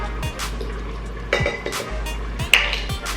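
Super hot water is poured into a pot of rice in a home kitchen, with soft splashing fills, a few metallic clinks from the pot, and a low steady hum underneath.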